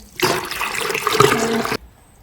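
Water pours into dough in a steady, close stream for about a second and a half, then cuts off abruptly into quiet.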